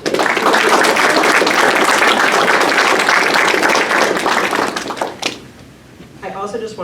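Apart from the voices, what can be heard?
audience applause for parents and guardians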